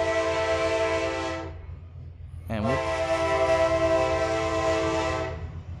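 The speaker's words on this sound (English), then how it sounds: "I live right next to train tracks, so there's the trains every time I'm recording" A train runs on tracks right beside a house, its horn blaring loud and close in two long sustained blasts separated by a brief break, with a low rumble underneath.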